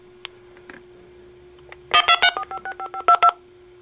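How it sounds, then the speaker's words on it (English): A telephone tone dialer fed into an amplifier plays a quick run of about a dozen clipped DTMF tones in a rapid, even rhythm, loud and close, after a few faint clicks over a steady low hum. "I'll put that in the jack of the tone dialer. Put the other end into my amplifier."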